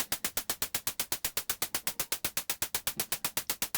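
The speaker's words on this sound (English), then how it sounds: "If we make that decay relatively short, we get a nice little hi-hat sound." Short, crisp synthesized hi-hat ticks from a Synthstrom Deluge with short decay repeat in a fast, even rhythm, each one a bright burst of noise that decays quickly.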